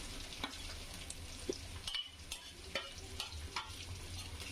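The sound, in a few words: frying ginger and garlic for beef curry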